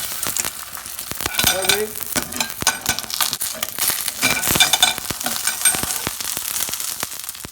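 Egg sizzling and frying in a pan, with rattling tosses and stirring clatter at irregular intervals, close and moderately loud, and a brief spoken word.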